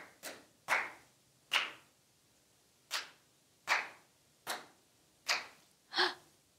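Hand claps tapping out a short spoken-word rhythm, eight crisp claps in uneven groups, two quick then spaced pairs, close and clear with no talking over them.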